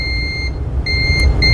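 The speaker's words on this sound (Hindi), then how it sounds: "ये जो बीप बज रहा है इसी के ऊपर हम वोल्टेज को अप्लाई कौन सा देखा है एक बार करेंगे।" A DC power supply machine on a phone repair bench, working on a dead Vivo Y28 5G, gives two loud electronic beeps, each steady and sustained, separated by a brief gap.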